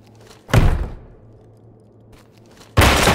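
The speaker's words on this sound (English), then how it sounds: "Ram the door, bang the room." A door in the tactical shooter Ready Or Not is rammed open: two heavy, loud impacts about two seconds apart, each a sharp thudding crash, with a faint low hum in between.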